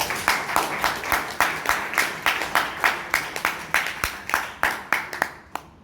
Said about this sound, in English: Please give a big round of applause for Toastmaster